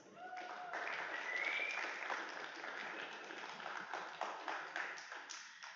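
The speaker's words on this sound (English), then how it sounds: "let's give another round of applause" An audience claps in sustained applause at an astronomy talk night, a dense patter of many hands at moderate distance that continues throughout.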